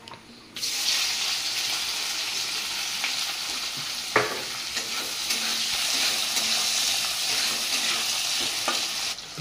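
Whole spices hit hot oil for a rainy-day fish besara and burst into a loud, steady close-up sizzle that holds for about nine seconds, with a single sharp clink partway through.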